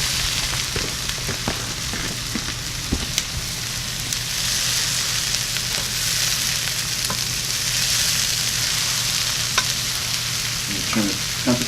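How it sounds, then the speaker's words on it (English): Mushrooms with garlic and salt sizzle steadily in a hot frying pan, a continuous dense crackle with occasional scraping stirs, fairly loud and close, no talking. "I'm going to add the mushrooms."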